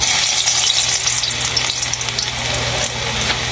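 Garlic sizzles loudly in hot cooking oil, a dense, close hiss and crackle that stays constant from start to finish, with a faint low hum beneath and no voices.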